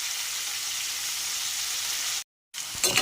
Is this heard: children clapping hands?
no